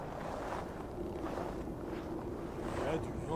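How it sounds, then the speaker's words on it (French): Wind gusts across a high ledge in Assassin's Creed Valhalla, a steady rough rushing whoosh that holds throughout at moderate loudness. "Il y a du vent."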